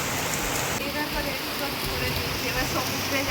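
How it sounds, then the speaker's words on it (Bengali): Heavy rain falls steadily near a seaside stay, a dense continuous hiss with faint drops, while a voice is faintly heard underneath. "প্রচুর বৃষ্টি।"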